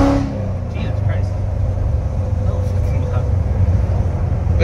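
A cammed 870-horsepower Corvette Z06 engine idles with a loud, steady, lumpy rumble close by, holding a constant drone throughout while people talk over it.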